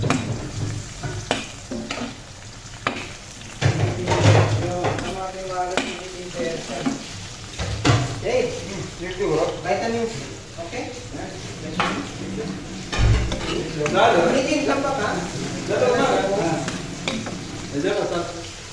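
Ginger and garlic sizzle while being stir-fried in a pan, a close frying hiss broken by repeated scraping and stirring strokes, with someone talking over the cooking throughout.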